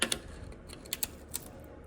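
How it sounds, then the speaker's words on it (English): A brake tool twisting a metal tab on a jalousie window on a trailer makes a few faint, scattered light clicks and ticks, close by and otherwise quiet. "I'm using a brake tool, and I'm just gonna twist it"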